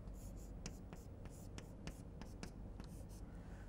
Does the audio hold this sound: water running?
no